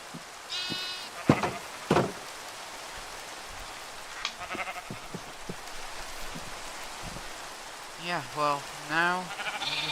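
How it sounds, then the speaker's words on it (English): Sheep in the video game Minecraft give several short bleats, spaced irregularly and then clustered near the end, over a steady patter of in-game rain. "now we have a few sheep"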